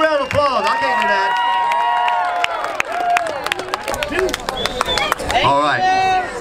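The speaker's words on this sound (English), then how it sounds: "Let's give him a big round of applause" Crowd at an outdoor BBQ smokeout auction applauding and cheering, dense clapping mixed with whoops and lively chatter, with voices talking over the noise throughout.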